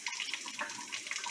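Tap water runs steadily into a sink while a small pet named Kiwi is bathed in cupped hands, a continuous broadband splashing hiss with small surges, fairly quiet and with no talk.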